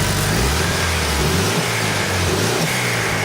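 Turbocharged car engine revved with the throttle, a loud, close, rough roar whose pitch rises and falls as the revs climb and settle, alone without talking.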